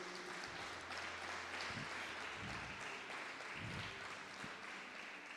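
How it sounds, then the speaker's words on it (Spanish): A church congregation claps together during a sermon, a faint, even patter of applause running steadily throughout, with a few low murmurs beneath it. "Dale un fuerte aplauso al Rey de Reyes."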